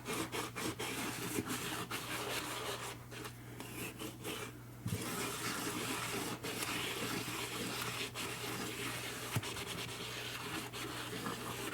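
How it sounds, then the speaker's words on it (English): An old, grimy cast iron pan scrubbed hard with a potato and coarse salt, giving a continuous close gritty rubbing and scouring with small knocks and no pauses. "really work these edges with this potato and this salt, and just kind of go at it and go at it"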